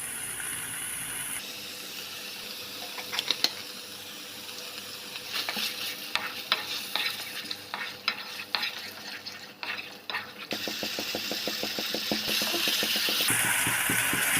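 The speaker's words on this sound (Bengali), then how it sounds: "তেল ছাড়া পর্যন্ত ভালো করে এটা কষিয়ে নেব।" Egg curry masala frying with yogurt and spice mix, a steady sizzle with rapid scraping and clicking of a spoon stirring against the pan, the rhythm changing partway through, close and without talk.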